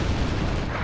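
Continuous rumbling cannon fire from cannon units in a real-time strategy battle game, low dense booms rolling steadily without a break, loud and close.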